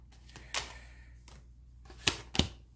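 Three tarot cards are pulled from a deck, a few sparse, soft papery slaps and flicks spaced apart against near silence, close and quiet.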